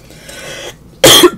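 A single sharp, loud cough bursts out close by after a second of quiet room tone.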